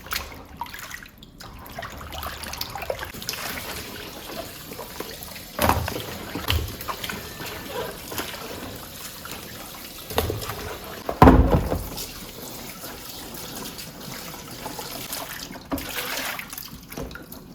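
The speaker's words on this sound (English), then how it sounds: "that's the yam all washed" A yam is washed under running water in a home kitchen, with steady trickling and splashing, occasional louder knocks and sloshes from handling, close by and continuous without speech.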